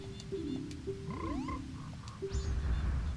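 Don Gero the frog in The Legend of Zelda: Majora's Mask gives a few short, tonal in-game croaks with rising chirpy blips, fairly clear over a low background rumble.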